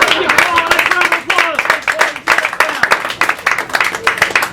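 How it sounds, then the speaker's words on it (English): An audience at a magic show applauds loudly and up close, dense clapping with some cheering and voices mixed in throughout. "applause"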